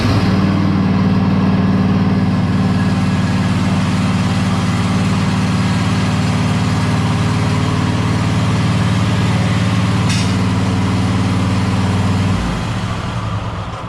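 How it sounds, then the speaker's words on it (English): A lawn tractor's engine idles loudly and steadily, its low droning hum holding constant as the machine drives onto adjustable wheel cradles of a lift, then dropping off abruptly near the end. "The first thing you want to do is to drive the tractor onto the cradles that hold the wheels."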